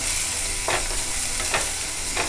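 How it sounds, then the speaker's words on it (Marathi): Onion sautéing in a pan until red, a close, dense sizzle with three brief stirring scrapes spaced evenly through it. "चांगला कांदा जरा ना लाल परतून घ्यायचा लाल होईपर्यंत"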